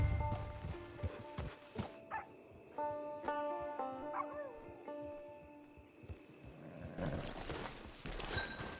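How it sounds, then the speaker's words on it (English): Horse hooves clip-clop at a steady walking pace in the Red Dead Online game, moderately close and fairly quiet, with a dog barking and whimpering and music playing around them. "Get your horse."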